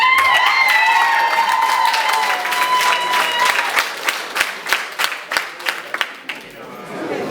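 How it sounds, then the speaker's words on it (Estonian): Audience applause and cheering at a school Christmas party, a dense crowd of clapping with whoops and high cheers early on, thinning into scattered, sharper individual claps toward the end. "Arvestades seda aplausi ja seda kiidumist ja lisa, mis siin oli"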